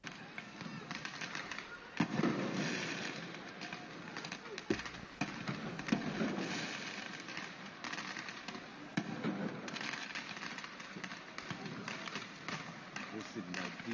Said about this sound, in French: on profite pas du feu d'artifice